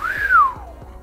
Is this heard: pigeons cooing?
no